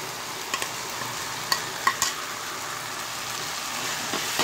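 Boiled masoor lentils are stirred into cooking jute leaf greens in a pan, a soft continuous sizzle with a few sharp spoon clicks and scrapes, close and fairly quiet.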